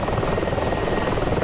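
A Mi-24 helicopter in the combat flight simulator DCS, its rotor and engine forming a loud, steady, throbbing drone with a rapid beating pulse.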